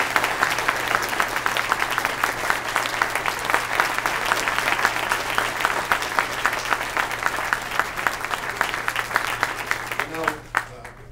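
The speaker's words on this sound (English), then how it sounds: "Ladies and gentlemen, how about a round of applause for" A debate breakfast audience in Dutchess County applauds steadily for about ten seconds, with dense, fairly even clapping from a roomful of people that fades out at the end.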